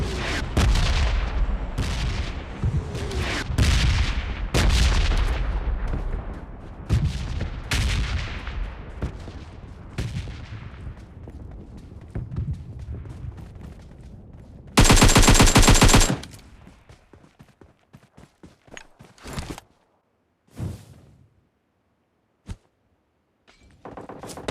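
Gunfire in PUBG Mobile on the Livik map: a loud opening stretch of rapid automatic bursts and heavy booming shots, then a brief blast of noise and a few scattered, sharper single shots with quiet gaps between them.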